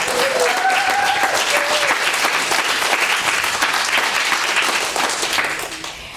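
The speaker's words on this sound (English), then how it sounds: "Can we have a round of applause?" Audience applause at a Mural Arts symposium, a steady dense wash of clapping from a crowd that holds for several seconds and then tapers off near the end.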